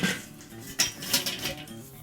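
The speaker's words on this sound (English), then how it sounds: "We're gonna take this whole rack and just transport it onto this grill." A metal rack holding a meatloaf is set onto a charcoal kettle grill, giving a few faint metallic clanks and scrapes spaced irregularly over two seconds, with no talking.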